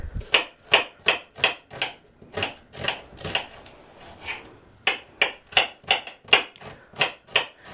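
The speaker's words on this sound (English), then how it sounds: "So just let's cut our onions, red onion preferred" A knife chops red onions on a cutting board in quick, crisp, evenly spaced knocks, close up, with a brief pause in the middle before the rhythmic chopping resumes.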